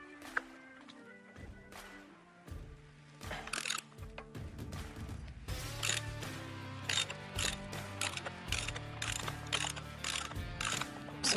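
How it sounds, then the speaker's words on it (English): A ratchet on an extension working a filter wrench to loosen a Harley motorcycle oil filter, repeated close clicking ratchet strokes in irregular bursts with metallic clanks, no talk. "So take your ratchet, your 5/8 inch extension, and your filter wrench,"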